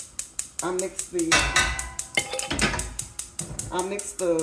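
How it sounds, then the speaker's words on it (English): A spoon mixing sugar and starch in a bowl gives repeated sharp clinks and scrapes against the sides in an uneven rhythm, up close, with occasional short bursts of louder scraping. "I take the spoon and I just mix it up real good"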